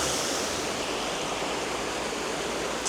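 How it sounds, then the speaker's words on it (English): Water pours steadily through a sluice gate from the main river in the Rivelin Valley, a constant even rushing hiss with no other sounds over it. "We've got the water coming through there from the main river, just here."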